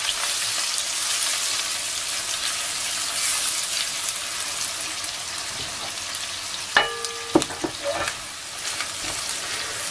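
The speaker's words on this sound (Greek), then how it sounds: "Αφήνουμε για 1-2 λεπτά να τσιγαριστούν τα κρεμμύδια" Sliced onions sautéing in a frying pan just emptied of sausages, an even hissing sizzle throughout with a couple of sharp metallic knocks and a brief tonal clink late on, no voices.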